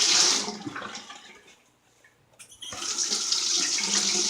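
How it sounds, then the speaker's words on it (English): Cold tap water running into a bathroom sink to rinse a razor during a wet shave: a steady rushing splash that dies away into near quiet, then starts again strongly and keeps flowing. "Do a cold water rinse on the razor."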